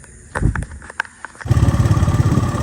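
A motorbike sets off in rain, with a few scattered knocks and clicks before its engine catches and settles into a steady, pulsing close-up drone.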